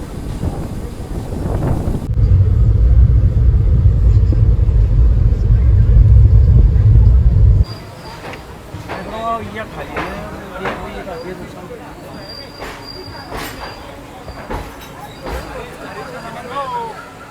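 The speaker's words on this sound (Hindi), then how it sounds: "तो ट्रेन अपनी निकल रही दौसा से" Ranikhet Express pulls out of Dausa station with a loud, steady low rumble and wind roar for several seconds, then drops to quieter clattering and background babble.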